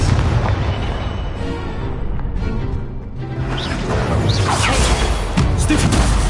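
In Hogwarts Legacy, an Expelliarmus spell lands amid a duel, with loud booming impacts and crashing bursts layered over whooshing magical effects, dense and close throughout.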